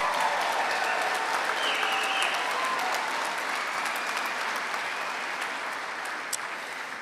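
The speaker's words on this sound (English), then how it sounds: "Let's give them a big round of applause." Sustained applause from a large audience at a graduation ceremony for the class of 2014, a dense, even wash of clapping that holds steady for the full seven seconds.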